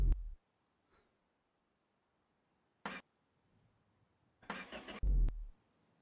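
A car in the My Garage video game cranks and fails to start, giving short, isolated bursts of starter and engine noise separated by silence, with a longer sputtering attempt near the end.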